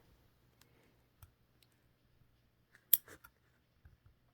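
Scissors make a few quiet, sparse snips while trimming fabric for a sewing project, with soft clicks of the blades spread across otherwise near silence.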